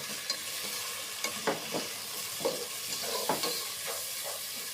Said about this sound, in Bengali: এরপর একটু ভেজে নেব।